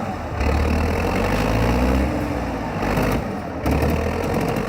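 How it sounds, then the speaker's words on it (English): A Tractor 650 engine runs steadily at a low, heavy rumble, loud and close throughout, with a brief dip in level midway before the drone resumes; the machine works hauling timber in snowy conditions. "Tractor 650 is a powerful machine designed for heavy-duty tasks like hauling timber, even in challenging snowy conditions"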